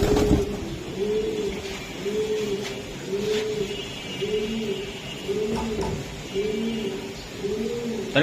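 Racing pigeons coo in a steady repeating rhythm, with soft throaty calls recurring every second or so, close by and moderately loud over faint background noise.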